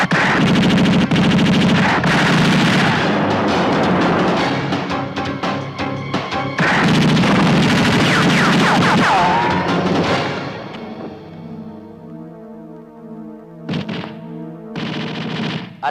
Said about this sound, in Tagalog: kaya sila ay binaril ni Major Durango.